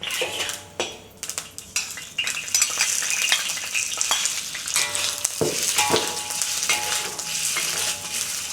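Marinated shrimp sizzling in hot oil in a wok, a steady close frying hiss with metal utensil scrapes and clinks from stirring throughout.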